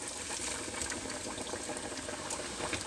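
Chicken sizzles steadily in hot oil at about 350 to 375 degrees after being laid in slowly with tongs, a continuous close bubbling crackle with no talk.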